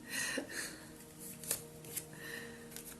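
Tarot cards being shuffled by hand in quiet surroundings, with soft riffling swishes and a few sharper card slaps in an uneven rhythm, close and faint.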